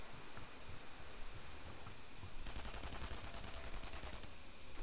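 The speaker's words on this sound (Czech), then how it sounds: "Oh, tady už se střílí takhle na začátku" Gunfire in the World War II shooter game Enemy Front, a steady low crackle of shots that swells into a denser, louder burst of rapid automatic fire halfway through, with no talking.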